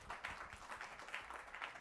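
Audience applause at a youth dialogue event, a faint, steady patter of many hands clapping with soft repeated peaks, fairly distant and quiet.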